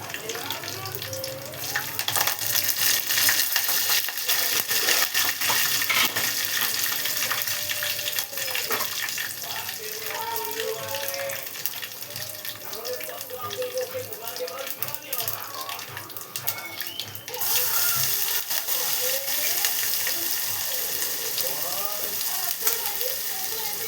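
Garlic-chili paste, cumin, mustard seeds and curry leaves frying in hot oil give a loud, continuous sizzle and crackle, with a voice talking over it.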